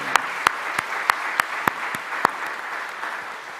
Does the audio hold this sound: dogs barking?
no